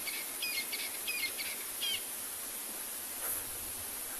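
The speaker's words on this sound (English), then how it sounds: "I can hear some crested francolins calling as well" Crested francolins call outdoors on a sunset safari, a short series of faint, distant repeated call notes early on over steady background hiss.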